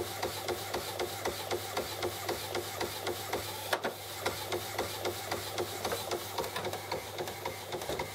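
An Epson WF-7210DTW inkjet printer prints a high-quality image, producing a steady, loud mechanical whir with a fast repeating rhythmic chatter of the print head shuttling, continuous throughout and alone without voices.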